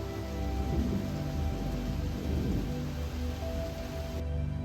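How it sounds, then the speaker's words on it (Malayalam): Heavy rain falls steadily at a 200-year-old palace in the forest at Kuttikkanam, a dense, continuous hiss of downpour with no speech. "നല്ല കോടയോടൊപ്പം തന്നെ ശക്തമായ രീതിയിൽ മഴയും കൂടെ വന്നു"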